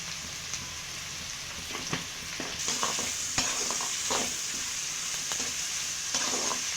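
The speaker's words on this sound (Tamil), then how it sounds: "இந்த வெங்காயம் நல்லா வதங்கட்டும்" Onions sautéing in a pan give a continuous frying crackle, punctuated by irregular spoon taps and stirring scrapes that grow busier midway. No speech is heard.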